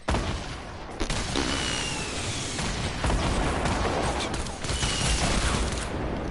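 Grenades going off in a shooter video game, a dense run of loud overlapping blasts and gunfire filling the whole stretch with barely a pause.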